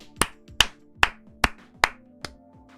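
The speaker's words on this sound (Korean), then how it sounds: "먼저 박수 한번 치고 시작하도록 하겠습니다" Six sharp, evenly spaced hand claps ring out close and alone, each a crisp separate strike about every half second.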